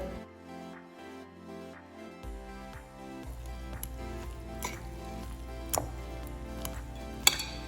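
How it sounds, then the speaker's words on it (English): Leftover bucatini pasta being mixed into whisked eggs in a bowl, with soft wet stirring, clinks of utensil against the dish and a couple of sharper taps, close and fairly quiet over faint background music. "Your pasta, leftover bucatini in this case, right in. Mix it."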